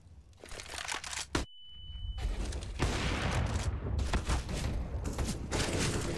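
Rapid gunfire in Counter-Strike: Global Offensive during a pro match, with pistols and an automatic Galil firing in dense, overlapping bursts that keep up almost without a break and drop out only briefly.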